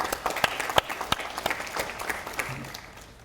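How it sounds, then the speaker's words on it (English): Applause for graduating students at a community college commencement ceremony, a dense crackle of many hands clapping with sharp individual claps standing out, steady and moderately loud before gradually thinning toward the end. "give yourself a round of applause"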